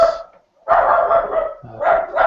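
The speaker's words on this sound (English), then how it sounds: "sorry about those dogs." Dogs bark in loud bursts close by, two sustained runs of barking separated by a short pause, with no talk over them.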